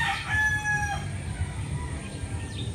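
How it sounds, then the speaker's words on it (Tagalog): A native chicken rooster crows once, loud and close, its drawn-out call rising and falling over a low rumble of background noise. "Doon, sa lugar na yun, mga native na manok."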